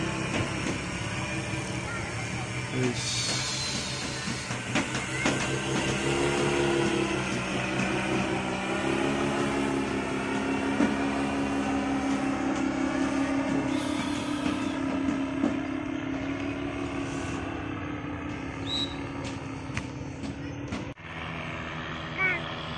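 Paramotor flying overhead during a practice session ahead of the 2023 Pra PON, its engine droning steadily with a slowly shifting pitch under nearby talking.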